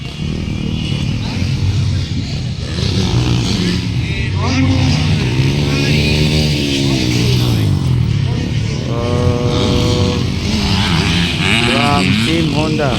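Motocross motorcycles racing in an Open Enduro round of the Namssa Philippines championship at Vermosa, engines revving and whining steadily throughout with rising and falling pitch as bikes pass, while an announcer talks over the track noise.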